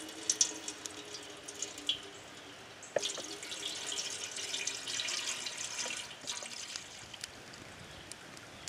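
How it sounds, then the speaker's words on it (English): Water pours through a bandana filter into a cooking pot at an outdoor camp, a faint, continuous trickle and splash with small clinks of the pot, heard up close and alone. "we're just going to fill our pot up, filtering it through our bandana into our pot"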